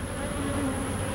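Honey bees buzz in an opened beehive being split for new queens, a steady close drone with no voices.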